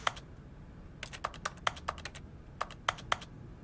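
Keyboard typing effect in The Stanley Parable: Ultra Deluxe, crisp clicking keystrokes that come in quick bursts of several taps with short pauses, over a low steady room hum.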